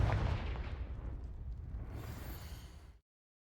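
A Confringo blasting spell explodes in the video game Hogwarts Legacy with a loud, booming burst that decays into a rumbling hiss over about three seconds, then cuts to silence.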